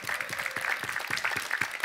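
A live audience claps at a Korean pansori-style folk song performance, with rapid, uneven hand claps of moderate loudness running throughout.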